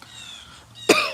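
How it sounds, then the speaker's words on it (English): A single sharp, close cough near the end of an otherwise quiet outdoor garden moment with faint bird chirps in the background. "Excuse the cough"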